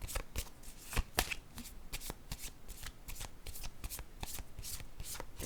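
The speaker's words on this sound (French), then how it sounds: "Je vais piger une autre carte ici." Cards are handled and drawn from a deck in a rapid run of crisp close riffling flicks and taps, fairly quiet, with no voices.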